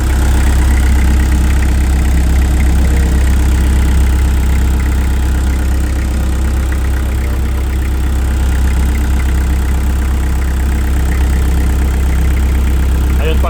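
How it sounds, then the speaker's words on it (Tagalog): An Isuzu 4LE1 four-cylinder diesel engine inside a Shindaiwa DG259MI 25 kVA generator idles with a steady, close, loud low drone and mechanical rumble that continues without change throughout. "Isuzu engine po yata ito kung hindi ako nagkakamali."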